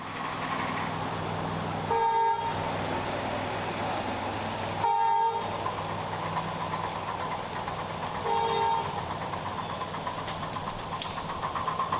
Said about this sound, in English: Ryan at the throttle of C&O 475 passes through Park Junction.